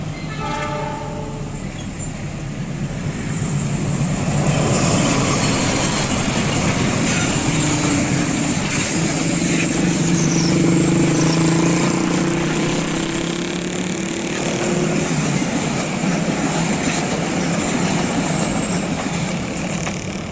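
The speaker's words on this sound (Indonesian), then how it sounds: "telah melintas dengan tiba-tiba kereta api Parahyangan dengan tujuan akhir stasiun Bandung" The Parahyangan passenger train bound for Bandung rumbles past close by, loud and continuous, with wheels clattering on the tracks and a brief horn near the start.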